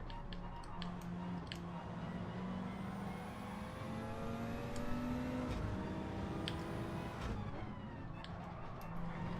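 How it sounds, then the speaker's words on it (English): A Toyota Supra race car in Gran Turismo 7 drives past with a continuous engine drone, and its pitch sweeps up and down through the gears. Other cars' engines sound in the background. "Oh, the Supra's just pushing his way past."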